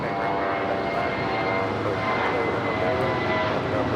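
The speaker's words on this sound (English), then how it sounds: "This is United Airlines 2279 taking off to Seattle on the A320" United Airlines Airbus A320 jet airliner taking off at Los Angeles International Airport, a steady, loud, broadband engine roar that holds evenly throughout with no talk over it.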